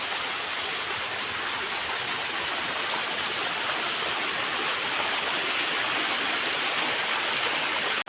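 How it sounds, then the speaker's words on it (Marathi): A small forest waterfall in rainy weather pours in a steady, dense rush of water that stays loud and unbroken throughout, with no voices. "इथून हा बघ या साईडला पण आहे धबधबा तीन धबधबे आहेत छोटे ते"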